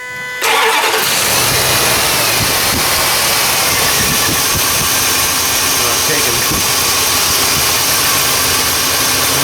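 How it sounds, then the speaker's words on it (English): A car engine on a coil-on-plug misfire check turns over and starts, then idles steadily at close range with a constant, slightly uneven rumble and hum throughout. "So go ahead and start it up, Hannah, and put it in reverse."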